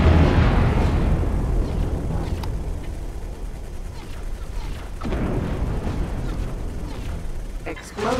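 Explosions ring out in the space game X4: Foundations as a station or ship section blows apart, a heavy boom opening the stretch and another hitting near the middle, rumbling loudly over continuous game noise and a voice.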